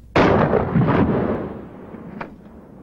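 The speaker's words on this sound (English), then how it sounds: "Remember the effect of buckshot on ballistic gel?" A single loud, booming shotgun blast of buckshot into ballistic gel, an abrupt onset followed by a long rumbling decay and a faint trailing knock.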